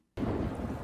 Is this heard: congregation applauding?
no